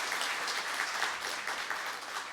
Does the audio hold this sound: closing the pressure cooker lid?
no